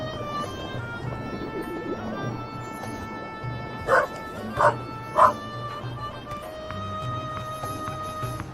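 A dog barking in the game The Raven Remastered, three sharp close barks spaced about half a second apart over a quiet ambient music bed.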